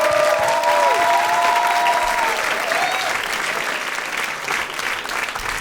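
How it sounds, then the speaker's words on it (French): A studio audience at a live comedy show applauding warmly, a dense, sustained wash of clapping that fills the room and slowly eases, with a few voices faintly mixed in. "On applaudit chaleureusement Younes Hanifi pour son excellente chronique."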